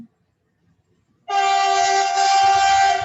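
A train sounds a loud, sustained horn close by after a second of near silence, with low rumbling beneath; the blast holds steady to the end.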